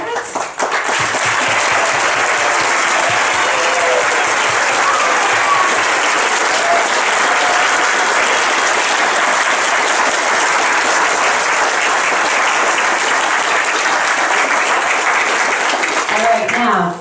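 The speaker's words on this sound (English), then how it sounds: "let's have a huge round of applause for our graduates." Loud, sustained applause and clapping from a crowd celebrating graduates at a consolidated school graduation ceremony, continuous for the full stretch with cheers mixed in.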